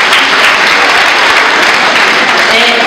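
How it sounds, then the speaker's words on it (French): Dense, steady applause from an audience at a ceremony for a Senegalese digital education programme, loud and continuous throughout, with no voices standing out. "Des applaudissements pour eux."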